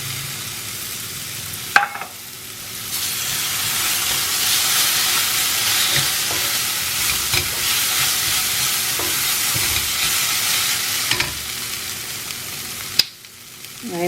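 Vegetable fried rice stir-fried in a pan after tomato sauce is added, a continuous loud sizzle and hiss with scraping stirs and a few sharp clacks of the spatula against the pan.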